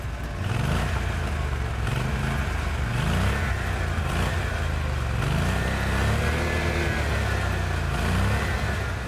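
A prototype gas snowmobile engine fires up and revs repeatedly in steady surges, loud and close, with a rough mechanical clatter throughout.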